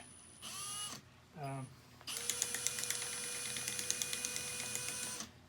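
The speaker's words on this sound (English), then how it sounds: "So you put this on your valve, and what happens, it goes forward and back, to the right and left, right and left." A hand valve grinding tool worked back and forth on an engine valve, producing close mechanical ratcheting bursts with a rapid regular clicking run over the last three seconds, with no talk.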